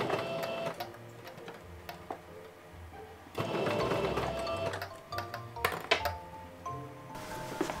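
A sewing machine stitches gathered cosplay sleeve tops onto bodices, running in uneven bursts of mechanical whirring with short pauses and clicks between, close and moderately loud.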